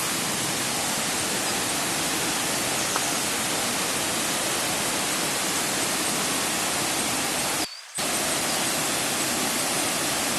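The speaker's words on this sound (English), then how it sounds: "That's the view of the Iruppu waterfall." Iruppu waterfall in Coorg roars with rushing water, a loud, dense, unbroken hiss of falling water close by, with a brief dropout near the end.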